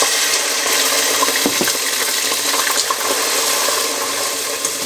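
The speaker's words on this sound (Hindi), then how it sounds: "अब मैं डालूँगी इसमें पानी," Water pours steadily into a cooking pot for several seconds, a continuous splashing rush with a few brief clinks, fairly close and without talk.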